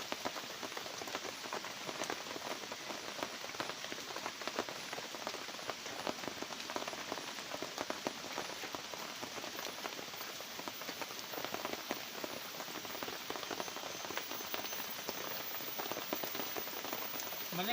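Steady rain falls in a forest, a dense, even patter of drops on leaves and ground that continues without a break throughout and stays fairly soft, with no voices.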